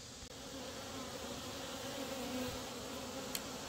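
Honeybees in an opened backyard hive, a dense continuous buzzing swarm droning close and steady, with a faint tap or click at the start and end and no talk.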